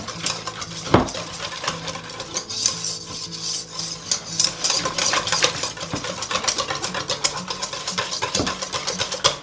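A utensil scrapes and clanks repeatedly against a bowl while sour cream is broken up and stirred into a thick cheesy hash brown casserole mixture, with close, rhythmic rubbing strokes and occasional sharp knocks.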